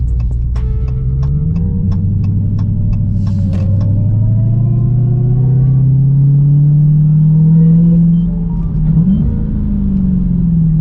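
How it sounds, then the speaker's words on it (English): A supercharged 2021 Dodge Challenger SRT Hellcat engine revs with a loud, deep throbbing rumble that swells steadily, dips briefly near the end, then picks back up, heard close from inside the car with no talking. "That doggone Supercharged sound like music"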